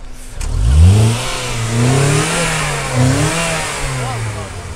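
A car engine revs up loudly, then its pitch wavers through a couple of rises and falls before easing toward a steadier idle.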